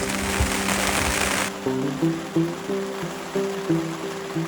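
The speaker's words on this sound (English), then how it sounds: "As the rain fell, we sat and waited, enjoying the sound of the rain upon the blind." Steady rain patters on a hunting blind, then the hiss drops away and sharp, clipped tonal whistles pop up at irregular intervals over a faint background.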